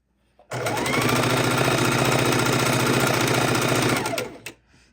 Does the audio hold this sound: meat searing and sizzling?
no